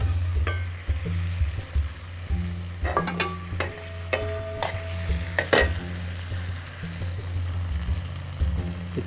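Capsicum and cubed onion sizzling and stir-frying in a hot pan, a steady frying hiss with scattered clinks and stirring scrapes close by, no talk.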